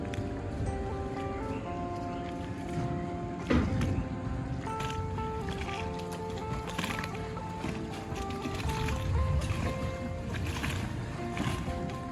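Cargo longboat on a river driven by three outboard motors: a steady, close engine drone with layered tonal hum runs throughout, with water rushing beneath and small bumps along the way.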